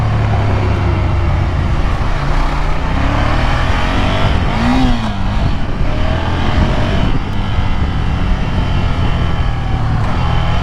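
Ducati Monster 797 motorcycle accelerating on a test ride, a loud continuous engine roar with rising revs and wind rush recorded close from the rider's position, no talk.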